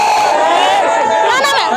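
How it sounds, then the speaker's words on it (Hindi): A large political crowd chants Congress slogans in a dense, loud roar of many voices shouting together, rising into whoops near the end of the short burst. "लगातार कांग्रेस के नारे लग रहे हैं"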